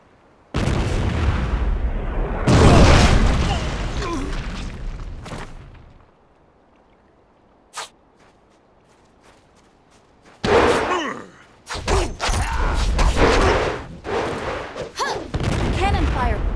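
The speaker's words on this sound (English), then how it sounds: "Cannon fire!" Cannon fire in the video game Jade Empire: heavy booming blasts and roaring bursts arrive in two long loud stretches, broken by a quiet gap with a single short crack.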